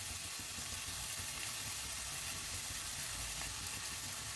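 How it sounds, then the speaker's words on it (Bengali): Chicken frying on medium-low heat and being stirred in a pan, a soft continuous sizzle and hiss throughout, fairly quiet and close, no talking. "চিকেনটা একটু কম আঁচে নেড়ে চেড়ে ভেজে নিতে হবে"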